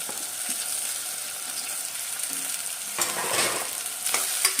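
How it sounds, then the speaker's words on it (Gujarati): A village-style mixed dish with potatoes is stirred in a pan as it cooks, a constant close sizzle broken by a few louder scraping strokes toward the end. "બધું હલાવી લઈએ."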